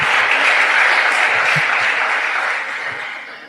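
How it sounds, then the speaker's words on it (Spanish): A church congregation applauding, a broad, sustained burst of clapping from many hands filling the room, loud at first and fading slightly toward the end, with a few faint voices mixed in. "Dale palmas al Señor."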